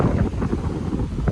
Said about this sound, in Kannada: ಮಾರ್ನಿಂಗ್ ಒಳ್ಳೆ ಗಾಳಿ ಬರ್ತಾ ಉಂಟು